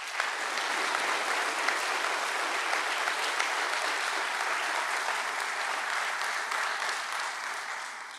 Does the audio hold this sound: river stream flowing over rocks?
no